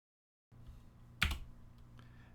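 Someone types on a computer keyboard, a quiet, brief flurry of key clicks with one sharper, louder keystroke in the middle.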